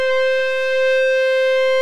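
Roli Lumi keyboard playing its guitar overdrive lead preset with a light touch, a single bright sustained note rich in harmonics held steadily and loud for under two seconds, no voices.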